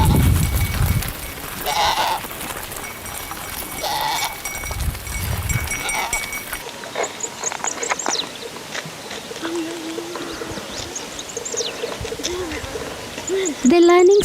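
Goats are herded home by girls in a rural setting, with repeated bleats from several animals over birdsong and outdoor ambience, some near and loud, with occasional human voices in between.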